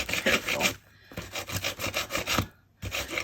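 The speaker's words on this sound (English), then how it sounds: "I've got this sanding block." Rhythmic scraping of a sanding block rubbed back and forth over a gesso-coated wooden frame, close and loud, in two bursts separated by short pauses.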